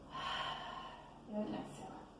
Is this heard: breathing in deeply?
yes